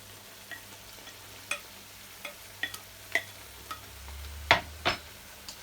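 Spoon stirring seafood curry as it fries in a pan, with a soft steady sizzle under a series of scattered clicks and scrapes, two sharper scrapes standing out near the end.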